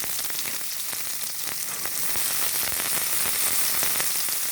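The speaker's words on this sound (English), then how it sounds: "Let the onion cook until it becomes soft caramelized" Onion frying in a wok for chicken biryani, a steady loud sizzle with crackling pops, continuous and close throughout.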